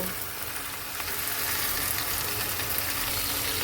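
Cut bottle gourd hits hot oil with fried cumin and bay leaves, producing a loud, dense, continuous sizzle that holds steady throughout.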